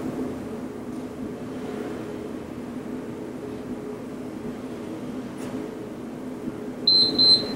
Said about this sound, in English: I don't know if you can hear my timer, but it sounds sick. Like it needs a new battery.